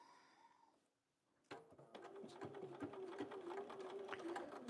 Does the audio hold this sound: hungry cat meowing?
no